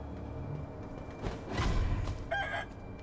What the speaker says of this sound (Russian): Ой, эй, ты чё, петух?